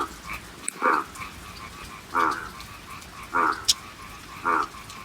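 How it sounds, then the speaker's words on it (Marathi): Frogs in a rain-filled farm field during the first monsoon rain at Dahanu croak four times at an even, unhurried pace, each call short and throaty, over a quiet wet background. "बेडकाचा आवाज पण खूप यायला लागला आहे"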